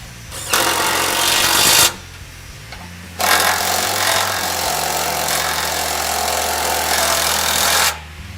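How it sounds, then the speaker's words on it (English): A power tool drives and tightens skid plate bolts on a Lexus GX460, two loud sustained whirring bursts with a short pause between them, close up, with no talk. "once you have those bolts in, you go ahead and tighten everything down"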